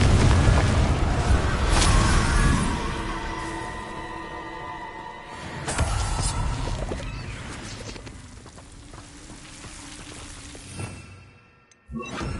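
A Confringo fire-blast spell from the Hogwarts Legacy video game erupts in a loud booming burst, its rumble fading over several seconds before a second, smaller blast hits near the end amid other game effects.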